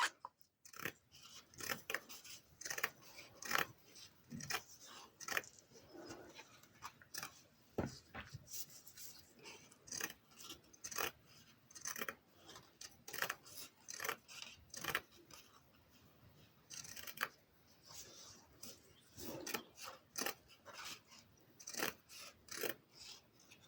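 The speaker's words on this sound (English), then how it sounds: "I'm just going to cut around the hoop, leaving a big margin" Scissors snip through felt and fabric around an embroidery hoop, a close steady series of short crisp cuts and rasps repeated throughout, with faint handling noise and no talk.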